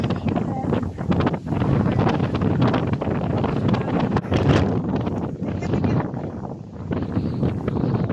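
Strong, steady wind buffets the microphone at a paragliding site in Rizal, with a continuous roar and rumble throughout, gusting louder at moments.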